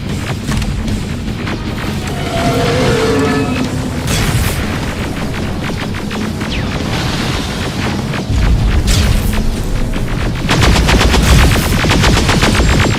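Loud, continuous video game gunfire and heavy booms from a Terminator Dark Fate battle, with rapid machine-gun bursts layered over rumbling explosions and dense combat noise throughout.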